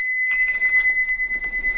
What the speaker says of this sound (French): il y a des petits accessoires demandés par les clients comme par exemple ces sonnettes vintage